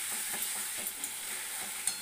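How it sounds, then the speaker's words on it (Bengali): Soybean and potato curry is stirred and sautéed in a pan, a soft, steady sizzle broken by regular scraping strokes of the spoon, with no talk. "ভালো করে কষানো হোক।"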